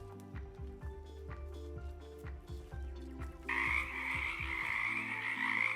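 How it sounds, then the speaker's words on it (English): A frog sitting among a harvested banana rack croaks in a quick repeated series of low, knocking calls close by, then the calls fade under a louder high, buzzing insect-like chorus that takes over. "We got a frog chilling in here."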